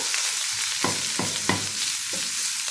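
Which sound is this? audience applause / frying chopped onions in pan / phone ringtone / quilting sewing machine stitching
frying chopped onions in pan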